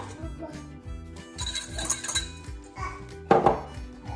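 A utensil clinks and scrapes against a salad bowl while flour is mixed, with light irregular taps and a sharper clink near the end, heard over faint background music.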